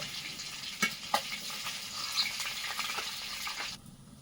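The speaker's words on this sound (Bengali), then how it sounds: "মাছগুলো ভাজা হয়েছে প্লেটে তুলে নিচ্ছি" Soft, continuous sizzle of fish frying in oil in a kadai, with a couple of light utensil taps, fading out at the end.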